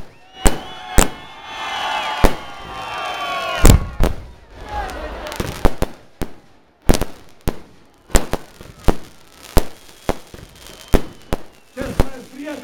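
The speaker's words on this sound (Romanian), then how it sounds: "De aproape 4 minute avem artificii" Fireworks display at a village festival in Glodeni, Romania: a rapid series of loud sharp bangs and crackling bursts, some with whistling trails, repeating irregularly over several seconds.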